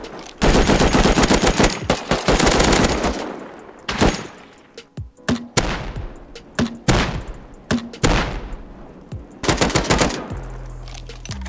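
Rapid bursts of automatic gunfire shoot out flame traps in the survival video game Rust. The shots are loud and close, coming in several long volleys with short pauses and a few sharp single shots between them.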